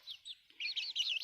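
A small naked neck chicken chick peeps in thin, high chirps, a couple of soft separate calls followed by a faster, louder run of cheeps, close by with no talking.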